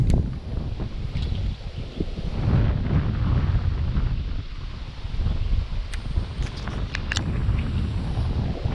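Steady wind gusting across a boat on Lake Linville during a fishing tournament, a broad continuous rush with low buffeting, close and fairly loud throughout, with a few faint clicks and knocks from the boat.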